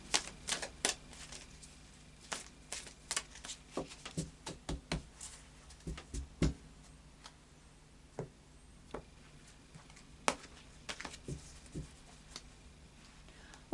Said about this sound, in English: A little bit more of a shuffle then.